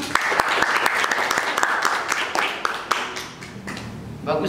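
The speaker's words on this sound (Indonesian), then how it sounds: "Tepuk tangan." A classroom of students applauds during an Indonesian history lesson, a burst of sharp, uneven handclaps that thins out toward the end, with voices briefly present.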